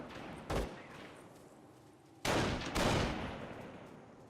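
A Company of Heroes machine gun fires in the game, faint background battle noise broken by a short burst, then two louder bursts of rapid fire close together.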